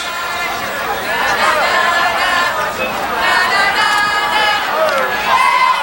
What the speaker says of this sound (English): Terrific crowd on hand today.